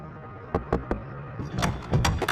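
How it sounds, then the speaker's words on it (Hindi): Soft knocking on a door as a horror-story sound effect: three light, evenly spaced taps, then a brief shuffle and a couple more dull thumps over quiet room noise. "तभी उसके दरवाजे पर एक हल्की सी दस्तक हुई।"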